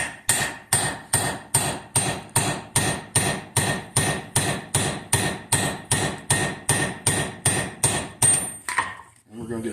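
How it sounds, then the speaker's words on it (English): A hammer strikes a metal pin punch about twenty times in a steady, even rhythm during an engine repair, each blow sharp and ringing, ending with a scraping clatter. "we're going to take our highly specialized pin punch"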